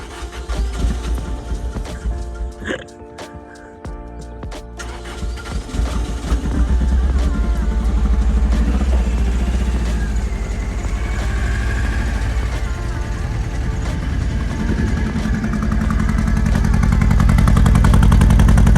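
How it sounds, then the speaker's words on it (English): Misfiring Lotus engine running on only two cylinders after injector testing, a loud rough roar that swells after a brief rattly start and holds steady and close. "First of all, we got it running on 2 cylinders."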